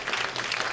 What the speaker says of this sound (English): Round of applause for Retriever AI.